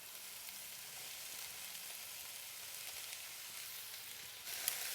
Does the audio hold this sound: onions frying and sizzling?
yes